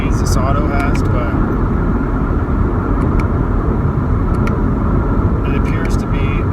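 A 2017 Camaro RS V6 with an automatic transmission accelerates in a steady, loud low-pitched engine drone with road noise, heard from inside the car and continuous throughout.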